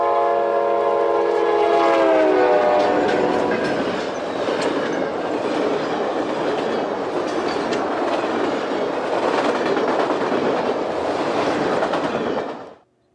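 A Kansas City Southern F unit locomotive passenger train on the Beaumont Subdivision near Beaumont, Texas, blasts a loud multi-tone horn, then roars past at track speed with heavy rumbling and clattering wheels before cutting off abruptly.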